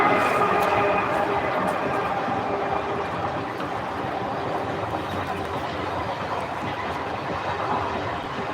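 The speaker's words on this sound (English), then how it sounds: "Train is going, cargo train." Cargo train passing near La Floresta, Lleida, Catalonia, a continuous rumbling roll with steady clickety-clack of wagons on the rails, fairly distant and moderately loud throughout.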